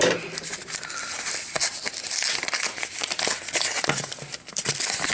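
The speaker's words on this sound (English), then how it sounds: "Let's go ahead and take our scissors and see what was sent as extras." Close crinkling and tearing of a mail package being opened with scissors, with steady rustling and a few sharp snips, loud and near, no talking.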